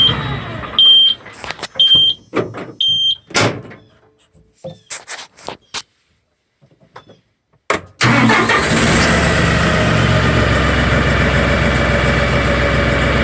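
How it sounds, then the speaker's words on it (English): An LS XR3135 tractor is cranked back up after being switched off: several chiming warning beeps and clicks, a brief silence, then the engine catches and settles into a loud, steady diesel idle nearby. "I'm going to switch it off and crank it back up and see what happens."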